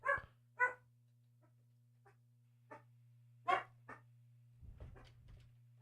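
Several dogs bark in scattered sharp bursts, some loud and close and others quieter, with gaps in between and a steady low electrical hum running underneath throughout.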